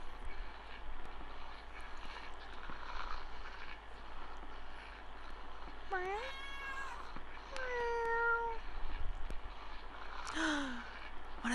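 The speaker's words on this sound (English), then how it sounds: "One of the little squeakers did a little baby meow today." A tiny kitten gives three faint, high meows a couple of seconds apart over a low, steady background hum.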